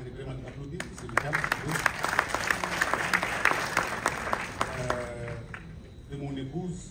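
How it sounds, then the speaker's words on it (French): Audience applause at a community gathering, moderately loud, with distinct individual claps over crowd murmur and some voices, lasting several seconds before tapering off. "je vous demanderai vraiment d'applaudir Ousseynou Thiam."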